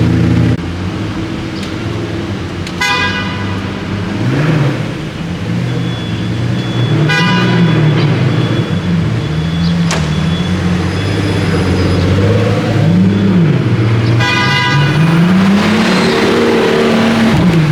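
A Pagani Utopia supercar engine roars loudly, revving and blipping repeatedly, with rising and falling pitch sweeps and sharp popping bursts, close by and sustained throughout.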